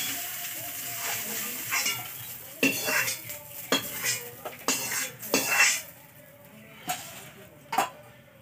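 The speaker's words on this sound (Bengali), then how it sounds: "এখন মাছ ভাজা হচ্ছে, মাছ ভাজাটা হোক।" Fish fries in oil in a kadai with a constant sizzle, broken by repeated sharp metallic clanks of a utensil striking the pan, close and fairly loud.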